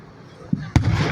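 Fireworks at a show in Niles bursting: a soft thump and then a sharper boom echoing outdoors, moderately distant, with a voice talking in the background.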